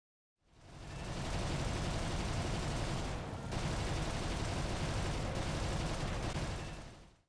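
Aircraft cannons hammer in War Thunder during a pass on a B-17 bomber, a dense, sustained burst of rapid fire that pauses briefly midway, then resumes and runs loud and close before cutting off.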